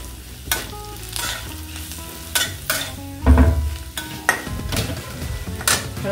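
Fried onions and turmeric being stirred in a hot pan, with a steady sizzle broken by sharp metallic scrapes and clanks of a spoon against the pan at irregular intervals.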